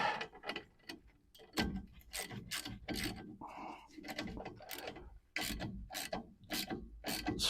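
Hand ratchet snugging down bolts on a long-neglected vehicle, a busy run of loud, close clicking bursts with brief pauses between strokes.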